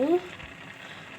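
A spoonful of oil hits a pan of tomato dal and sets off a soft, steady sizzle, with a brief voiced sound at the start before the frying hiss settles in close and even.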